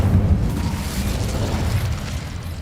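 An Incendio fire spell going off in the video game Hogwarts Legacy, a loud whooshing, crackling burst that strikes at once and then rumbles on, slowly fading.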